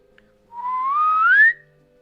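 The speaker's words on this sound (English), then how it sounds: "calls the clown from behind the stand and makes a noise with a slide whistle" A slide whistle blown by a clown in West of Loathing gives one smooth rising glissando lasting about a second, clear and alone.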